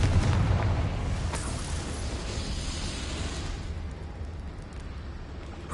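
A Confringo blasting spell explodes in Hogwarts Legacy, a deep rumbling boom that fades into a low sustained roar.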